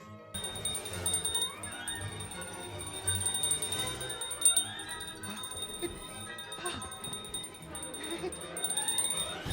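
Tinker Bell's voice in Tinker Bell and the Great Fairy Rescue comes through as bright, tinkling chiming bells that ring in repeated clusters over a continuous, busy musical background.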